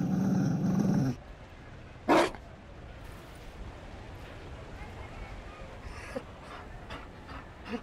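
Mabari war dog in Dragon Age Inquisition gives a close, rumbling growl and a sharp bark-like burst, then pants softly under ambient game sound with faint clicks, and a voice speaks briefly.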